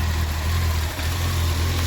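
A 1993 Honda CBR900RR California-spec motorcycle idles after restoration, a steady, close, low engine drone with a brief dip near the middle and no talking.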